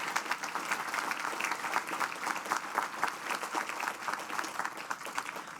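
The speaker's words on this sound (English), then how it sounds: "Let's give him a round of applause." An audience at a Bucknell University commencement ceremony claps steadily for a professor, a dense sustained round of applause with no talk over it.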